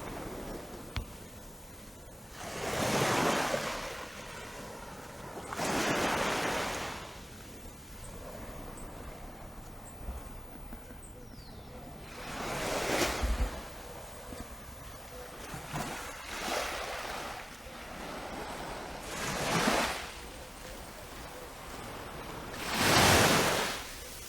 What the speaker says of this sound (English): Enjoy this gentle slapping on the shoreline that is known on the west coast.